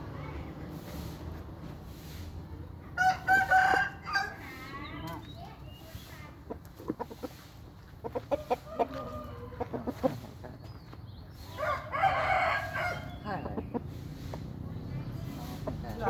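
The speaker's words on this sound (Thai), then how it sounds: "ไก่เชิงครับไก่เชิง" A young Thai gamecock that has just reached full growth clucks and crows at close range, with short bursts of calls rising over someone talking steadily throughout.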